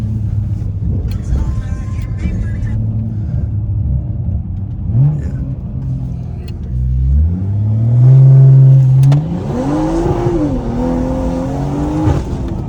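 BMW F30 cars revving hard with wheels spinning: loud engine roar climbs and falls in pitch through rising revs, with tire squeal and rumble, close and dominant.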